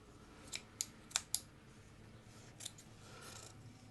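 Scissors snip through fabric while hollowing out the face opening of a sewn Russian doll, a few quiet, sharp cuts close by in an otherwise still room.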